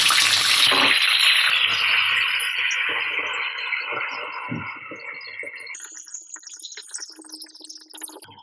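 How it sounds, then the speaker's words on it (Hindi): Raw chicken pieces dropped into a hot pan of oil with whole spices for a green chicken curry, bursting into a loud sizzle that gradually settles into a steadier, quieter frying hiss with occasional stirring. "अब अपना चिकन भी इसमें डाल देते हैं और थोड़ा सा इसको फ्राई करेंगे"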